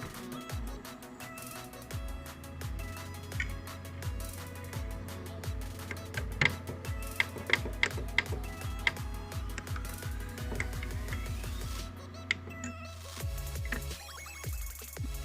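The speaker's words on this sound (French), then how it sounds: "le bruit que la console fait quand elle s'allume" A first-generation game console from the 1970s switching on, giving off a loud, steady electrical hum with a rapid train of clicking ticks over it that stops abruptly near the end. No one speaks.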